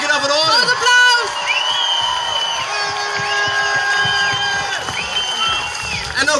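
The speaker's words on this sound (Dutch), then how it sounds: "Groot applaus!" A crowd at a street demonstration about the Pete character breaks into loud applause and cheering, with whoops and shouts mixed in and music playing underneath throughout.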